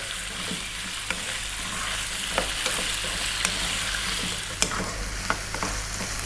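Potatoes fry in a hot pan for an Indian-style dish, giving a steady sizzle broken by light scraping and clicks as they are tossed around.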